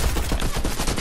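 Combat assault rifle fire in a Fortnite match, a dense, loud stream of rapid shots filling the whole brief moment with no voices.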